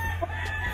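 A brassback rooster, a rare colour variety with blue in its plumage, crows in a short, steady, sustained call heard close and clearly over a constant low background hum.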